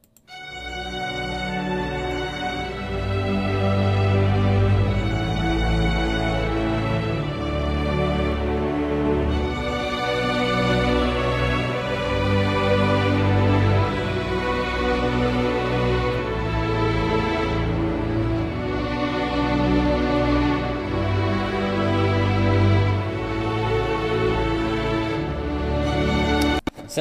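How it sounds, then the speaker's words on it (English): Soloed orchestral strings play a sustained, confident passage that moves into a somber mood, with layered harmonic chords swelling steadily and heard alone without talk. "I'll just solo the strings"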